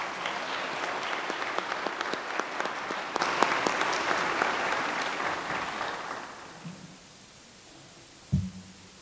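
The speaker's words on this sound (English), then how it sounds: "Let's give them another round of applause" An audience at an alumni awards chapel applauds with dense, sustained clapping that thins and fades out after about six seconds, followed by a soft thump.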